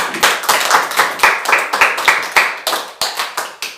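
A church congregation claps in a fast, roughly even rhythm, sharp close slaps repeating about three or four times a second and blending into a lively group beat, with no speech over it.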